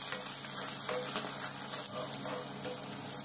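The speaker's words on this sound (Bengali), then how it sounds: "এখন আমি মাছগুলোকে একটু ফ্রাই করব।" Large ring-cut pieces of Katla fish frying one at a time in a pan, a dense, even sizzle that holds steady and close for a few seconds with no talking.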